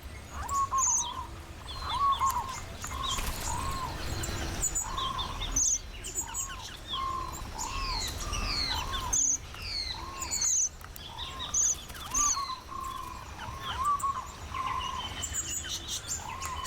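A red-browed finch courting in the Australian wild gives repeated high, thin chirps and short downward-sliding calls in irregular bursts, with other faint bird calls around, no talking.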